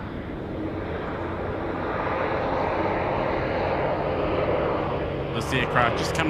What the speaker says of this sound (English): aircraft just coming from Napier